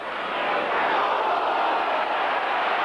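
A roaring rugby league stadium crowd at a 1986 Kangaroo Tour match between Wigan and Australia cheers loudly in one sustained, swelling wave with no clear breaks.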